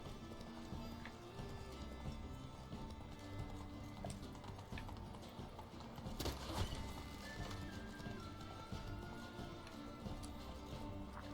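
Roach, the horse in The Witcher 3, gallops along in a steady rapid clip-clop of hooves, faint and continuous under game music and ambience.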